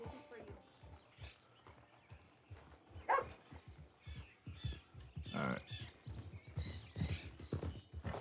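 Horse hooves clop unevenly at close range in Red Dead Online while a voice speaks over them, with a few sharper snorts or animal cries in between.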